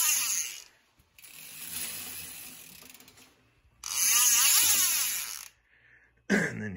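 Rapid, continuous ratcheting buzz of a DT Swiss star ratchet bicycle freewheel hub spinning, in two bursts with a short pause between, fairly close and steady, ending with a brief louder click.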